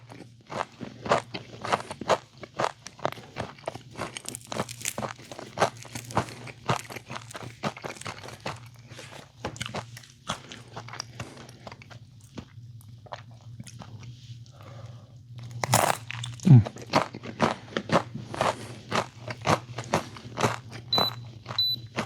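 Crisp, repeated crunching and chewing of Pizza Hut pizza crust, close and loud, with irregular bites and chews continuing throughout without talk.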